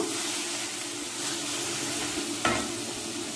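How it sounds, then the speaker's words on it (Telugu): Two medium tomatoes fry and get stirred in a pan for a restaurant-style palak paneer, giving a steady close sizzle with scraping stir noises and a brief louder clatter near the end, with no talking. "ఒక మీడియం సైజువి రెండు టమాటాలు వేసాను"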